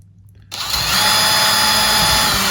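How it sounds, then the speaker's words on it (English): A power drill whines up to full speed as it bores through an acrylic airtight tub, then holds a steady, loud, high-pitched drone. "So we can drill them nice and easy without fear of damaging them or splitting them."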